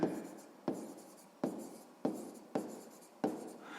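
Pen strokes on paper while a sixth-grade math exercise is written out, six quiet evenly spaced scratching bursts, each starting sharply and fading, close and alone.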